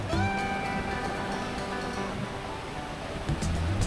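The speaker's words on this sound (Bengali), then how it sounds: "সমুদ্রের ঢেউ, সমুদ্রের হাওয়া" Sea waves and sea wind on a beach at Mousuni Island make a steady washing rush with soft gusts. A few faint tonal sounds ride over it early on, and no one talks.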